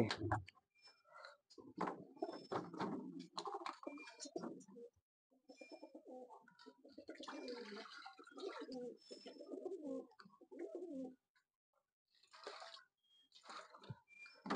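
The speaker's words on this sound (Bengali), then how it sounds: "কালো পায়রা।" Lakka pigeons on a rooftop coo in soft, repeated throaty bursts, close by, with light fluttering and shuffling between calls and no talking.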